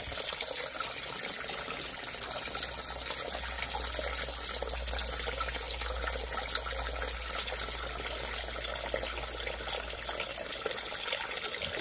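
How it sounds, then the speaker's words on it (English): Distilled water pours steadily into a container for an electrolysis rust-removal setup, a continuous close gushing and splashing stream with no voices. "All right, water's going in."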